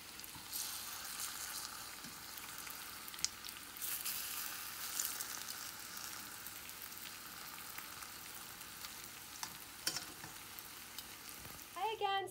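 Turon, banana spring rolls, sizzle and crackle steadily in hot oil, a soft continuous frying hiss with occasional pops and a brief stir near the end, no voices.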